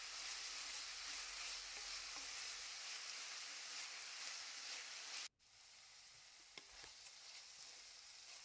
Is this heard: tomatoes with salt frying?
yes